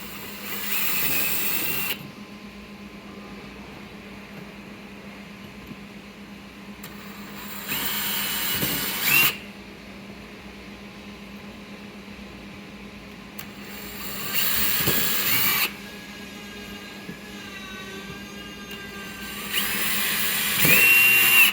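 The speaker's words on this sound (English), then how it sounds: "Get my other holes drilled." A power drill bores holes while a plastic tank lock ring is being repaired, heard as four separate whirring bursts of a few seconds each with quiet gaps between them.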